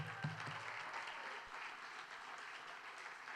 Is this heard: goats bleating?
no